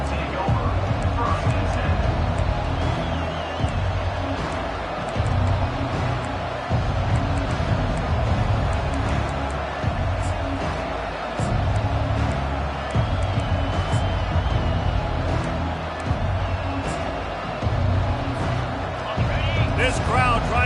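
A stadium crowd at a college football game between Florida and Texas roars steadily throughout, with dense cheering and babble under a play-by-play announcer.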